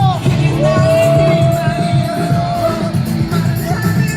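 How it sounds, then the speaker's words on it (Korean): A large protest rally crowd in Daejeon roars a sustained cheer, with shouts and a rising whistle-like yell over dense, loud crowd noise lasting several seconds. "힘찬 함성으로 시작하겠습니다"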